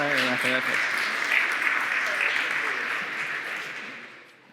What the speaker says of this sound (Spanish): Si sentís la necesidad de aplaudir, podéis aplaudir sin problema.